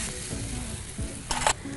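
Paneer bhurji with vegetables and masala sautés in a pan, giving a soft steady sizzle with scraping stirs of a spatula and a brief brighter hiss near the end; no talking.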